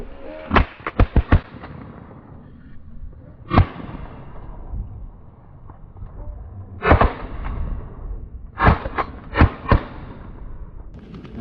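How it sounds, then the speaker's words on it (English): Shotguns fired at geese on an opening-day goose hunt in Indiana, loud sharp reports in quick clusters of three or four with pauses between, no talk. "Good shooting."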